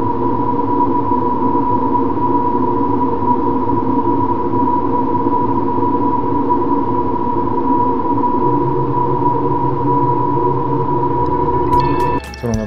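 Sonified molecular vibrations: a sustained high whistling tone from hydrogen atoms over a stack of lower steady hums from carbon-carbon bonds, synthetic and unchanging, ending with a brief burst of higher tones.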